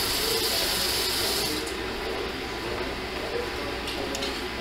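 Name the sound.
kitchen tap water running into a sink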